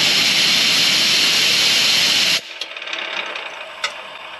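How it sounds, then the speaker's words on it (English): An air hose blows hay dust out of the twine tensioner on a Massey Ferguson 2100/2000 series baler. A loud, close, hissing blast runs steadily for about two seconds, then cuts off, leaving faint rattles and spinning clicks. "We take our air hose and we put it right down in here, and we refer to this as spinning it."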